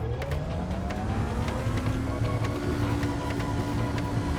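A supercar engine in a Minecraft car mod revs steadily in the video game, with a stock setup and a possible fault, giving a continuous droning engine tone with rising pitch sweeps and faint clicking ticks.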